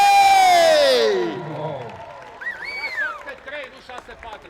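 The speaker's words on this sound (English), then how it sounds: "give him a little round of applause" Polo spectators at the Singureni Manor Arena Polo Cup cheer and clap after a goal, a loud burst of crowd noise with a rising shout that fades into scattered applause and murmuring.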